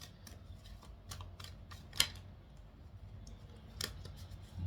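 Tarot cards being shuffled by hand during a reading, heard as soft, quiet riffling and flicking taps scattered through the passage, with one sharper snap near the middle and another later, over a low background hum.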